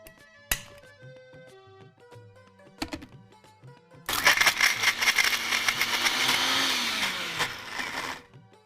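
An electric mixer grinder blends tamarind chutney with jaggery, starting with a few clicks and knocks, then a loud whirring grind that runs steadily for about four seconds before slowing down.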